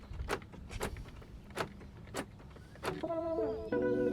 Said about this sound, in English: I'm gonna cycle the master switch and we're gonna see if this door lock actuator functions